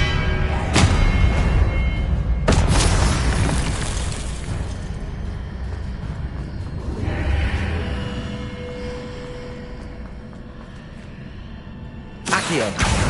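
Confringo fire-blast spells cast in Hogwarts Legacy crack out as a few sharp, loud bursts, spaced far apart, over a dense rumbling bed of combat noise.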